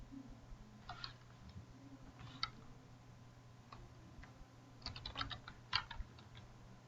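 Fast typing on a computer keyboard, with scattered bursts of soft key clicks, some clustered and quick, over a quiet low hum.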